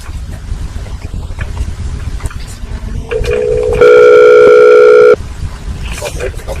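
A telephone line during a call transfer gives a loud, steady electronic tone of about a second and a half, preceded by a softer tone and surrounded by line hiss and faint background noise.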